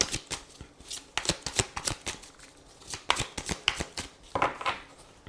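Quick riffling snaps of an amethyst Love Oracle card deck being shuffled by hand, close and crisp, in uneven bursts of rapid flicks with short pauses between.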